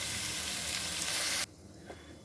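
Garlic fries under a lid for shrimp pasta, a loud steady sizzle for about a second and a half that cuts off abruptly, leaving near quiet with a faint clink.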